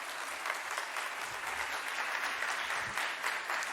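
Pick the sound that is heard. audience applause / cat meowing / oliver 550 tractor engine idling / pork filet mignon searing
audience applause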